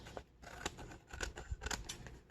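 Scissors trimming a sheet of paper, a quick series of soft crisp snips close by and quiet, with no talk.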